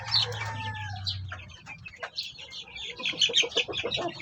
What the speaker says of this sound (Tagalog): sa ngayon nag-iisa lang yung hen natin dito